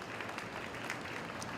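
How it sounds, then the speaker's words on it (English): Applause from a county fair beef show audience honoring senior cattle showmen, a steady moderate patter of clapping throughout with no voices. "Let's give our seniors a good round of applause."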